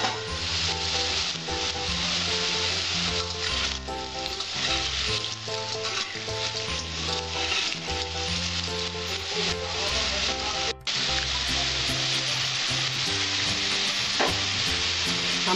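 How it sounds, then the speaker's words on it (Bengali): Potatoes fry in hot oil for a prawn and pointed-gourd dish, giving a continuous close sizzle with frequent scraping and stirring clatter in the pan, and one brief sharp knock partway through. "আমার আলুগুলো লাল লাল করে ভাজা হয়েছে"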